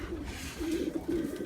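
Racing pigeons coo softly in a low, throaty rolling rhythm, with two or three coos over steady outdoor background noise.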